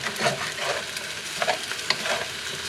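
Rice fries in an oiled Copper Chef pan with a steady close sizzle and occasional scraping, stirring clicks, and no voices.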